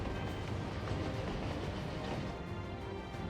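A fast train rushes along in a Final Fantasy XIV Dawntrail cutscene, a steady loud rumble with rattling wagon clatter throughout, no voices.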